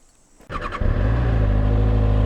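A Kawasaki ZX6R motorcycle engine, new and in its break-in period, starts close by and settles into a loud, steady idle with a strong low drone; no speech.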